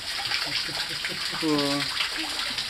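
Heavy water gushes and pours continuously inside a cave, a loud steady rush with a brief voice speaking over it midway.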